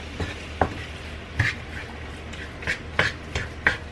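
Ground beef browning in a pot gives a low, soft sizzle beneath a run of sharp spoon scrapes and knocks, about seven of them spaced irregularly and heard up close.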